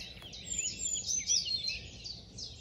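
A blue tit sings in Hembury woods in May, a short, high, thin phrase of chirps close overhead against faint woodland background, with other distant birds in the dawn chorus.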